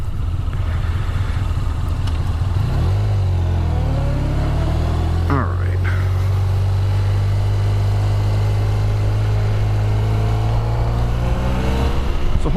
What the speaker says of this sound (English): Great sounding V4 motor.